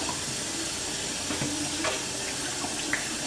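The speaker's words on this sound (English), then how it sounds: "And I'm going to wash my hands off again." A kitchen tap runs in a steady broadband hiss while hands are washed under it. Faint splashes and small shifts rise over the flow, which is moderately close and continuous.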